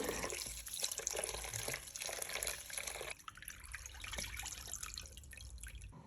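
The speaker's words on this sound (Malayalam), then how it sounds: "ഇനി അരി നന്നായിട്ട് കഴുകി വൃത്തിയാക്കിയിട്ട്" Jeerakasala rice is washed in water, with continuous close sloshing, trickling and dripping, soft and uneven, briefly quieter midway before the rinsing carries on, with no talking.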